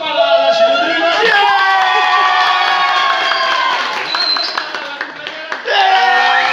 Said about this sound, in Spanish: ¡Aplausos para la chirurgia!